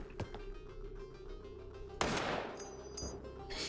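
Gunfire in the first-person shooter game Receiver: a couple of faint sharp shots early, then one loud crack at about two seconds followed by a long decaying echo and smaller impacts.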